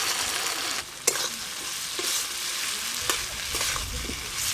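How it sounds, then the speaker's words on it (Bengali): Fried taro pieces are stirred into a spiced masala of cumin paste, turmeric, green chillies and salt, sizzling loudly and steadily with a few sharp scraping knocks of the spoon, no voices. "এবার ভেজে রাখা কচুগুলো দিয়ে দেবো।"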